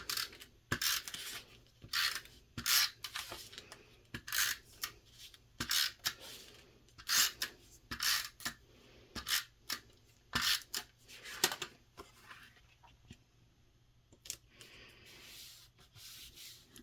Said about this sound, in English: Next, you're going to glue your craft cardstock panel. I'm going to use a tape runner.